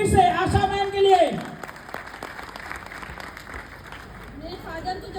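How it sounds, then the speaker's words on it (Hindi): Audience applause for Asha Gaur at a recognition event, a loud burst under a speaking voice at the start that settles into steady clapping and ends with a voice again. "जबरदस्त तालियां दोस्तों फिर से आशा मैम के लिए।"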